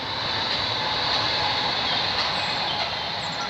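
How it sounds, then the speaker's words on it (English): A train rolls past by the River Medway near West Farleigh in Kent, giving a steady loud rushing roar with a bright hiss that holds evenly for a few seconds and has no voices over it. "Oh, there's the train"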